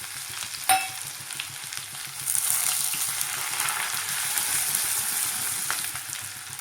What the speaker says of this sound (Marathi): एक ते दीड पळी तेल टाकून घेतलेलं आहे ते चमचे मोहरी अर्धा चमचा जिरा मिरची आणि आले लसणाची पेस्ट